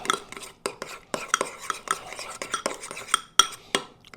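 A utensil stirs cayenne pepper into a flatbread topping, with crisp repeated clinks and scrapes against a bowl in an irregular rhythm, close and fairly loud.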